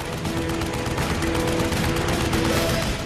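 Machine gun fire from a P-47 Thunderbolt fighter plane in aerial combat against a Me 109, a dense continuous rattle of rapid bursts lasting the whole clip, loud and close with no talk.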